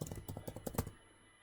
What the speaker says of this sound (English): type it correctly